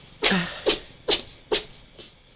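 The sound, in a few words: cat sneezing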